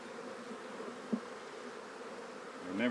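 Honeybees hum steadily as a beehive stands open for splitting, a close, continuous buzz with one brief knock midway and a rising swell of nearby bees near the end.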